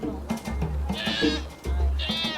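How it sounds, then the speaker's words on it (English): Goats kept by Maasai women in Kenya bleat several times close by, with wavering calls that rise and repeat over a low background hum. "periodically they sell the goats and they share the money among themselves."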